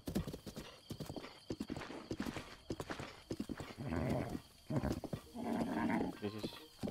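A horse gallops with rapid rhythmic hoofbeats in Zelda: Breath of the Wild, close and steady, with snorting and a whinny between bursts of clopping.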